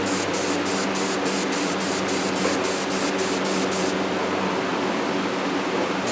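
Coating sprayed onto Subaru WRX pistons: a steady close hiss of spray, with rapid regular pulsing in the first few seconds before continuing as an even rush.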